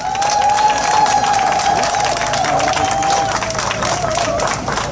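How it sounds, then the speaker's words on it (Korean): A crowd at an outdoor Seoul mayoral campaign rally in Gocheok park, Guro-gu, applauds and cheers loudly. Continuous, dense clapping mixes with shouts, and a sustained whistle-like tone runs across it. "뜨거운 격려의 박수 부탁드립니다"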